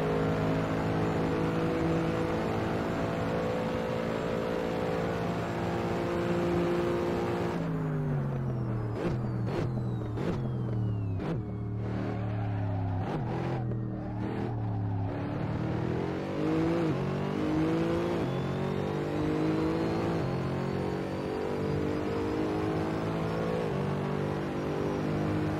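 Mercedes SLS GT3 racing around Monza in Assetto Corsa: a loud, steady engine drone that drops through a series of sharp downshift blips, then climbs again in a long rising rev, with no talk over it.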